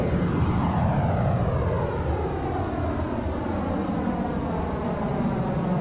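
A Learjet 35A takes off in Microsoft Flight Simulator, its jet engines roaring loudly and steadily as a sweeping, shifting whine rides over the broad rumble throughout.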